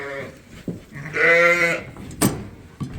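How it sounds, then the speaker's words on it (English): A sheep on a farm gives one loud, drawn-out bleat midway, set among quieter farmyard rustles and thumps, with a single short word spoken. "We got the peanut gallery behind the gate watching the sheep."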